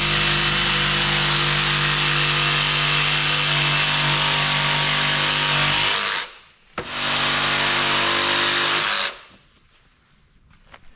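A jigsaw grinds loudly and harshly through cement board, stops briefly, restarts, then cuts out, leaving quiet handling noise.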